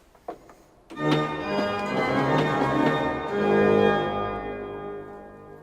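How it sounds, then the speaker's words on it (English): A deep sustained organ tone enters with a repeating pedal ostinato figure like church bells, from Bach's In dir ist Freude, BWV 615, rich harmonics swelling and holding steady, played alone with no talking. "And then comes the pedal, which has this figure almost like some church bells"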